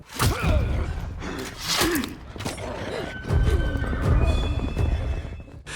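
Horses ridden by masked warriors in an ambush whinny and neigh loudly, several strained calls rising and falling over heavy hoofbeats and commotion at close range.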